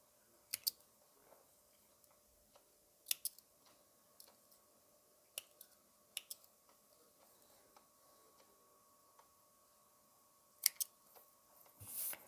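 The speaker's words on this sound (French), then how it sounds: "On coupe ces petits fils." Small sharp snips of scissors cutting little threads on a sewn shoulder bag, scattered and faint, with quiet pauses between the clicks.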